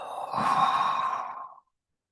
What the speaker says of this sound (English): Take a big deep breath in. Exhale.